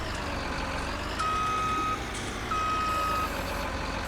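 Reversing beeps from a farm vehicle in Farming Simulator 19: two long, steady, moderately loud tones with a gap between them, over a low, constant engine hum.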